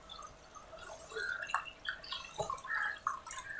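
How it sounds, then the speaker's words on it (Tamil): Water is poured into a simmering vada curry in a pan, giving short splashy drips and gurgles that come and go in uneven bursts, close and moderately loud, with no talking. "இன்னும் கொஞ்சம் தண்ணி நம்ம விட்டுடலாம்."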